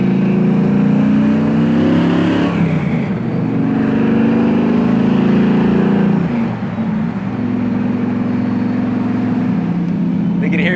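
A 1979 Camaro Z28 V8 rumbles loudly and close, swelling through a couple of throttle surges with deep steady exhaust drone, while people talk over it.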